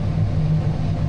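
A truck engine rumbles low and steady while the vehicle backs up across a dry potato field, a brief, close, continuous drone with no voices.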